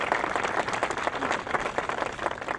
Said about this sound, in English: Let's give another round of applause to Billy and Janice and all the Crystals.